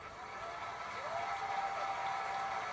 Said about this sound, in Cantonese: 大力掌聲唔該。